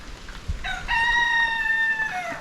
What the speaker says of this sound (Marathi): हा कोंबडा पण आरवतो आहे